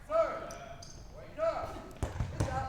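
Ball bouncing off the floor during a mixed dodgeball tournament final, two sharp thuds late on under a commentator's voice in an indoor gym.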